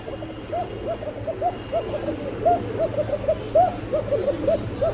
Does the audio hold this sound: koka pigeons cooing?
yes